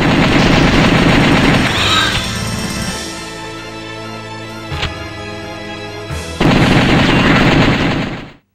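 Rapid, loud gunfire from The House of the Dead on PC crackles in dense bursts, then drops to sparse sharp single shots over a humming game backdrop before a heavy volley resumes and fades out.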